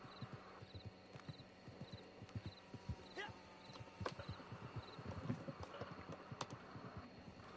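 Steady clip-clop of horse hooves at a trotting rhythm in Red Dead Redemption 2, fairly close, with faint background ambience and a soft whinny.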